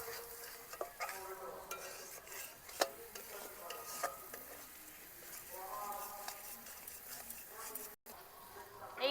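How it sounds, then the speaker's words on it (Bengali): Ground spices are stirred in hot oil, giving a continuous soft sizzle with repeated light scraping and tapping of a spoon against the pan at a moderate distance. "গুঁড়ো মশলাগুলো দেওয়ার পর তেলের মধ্যে কিছু সময় নেড়ে নিচ্ছি"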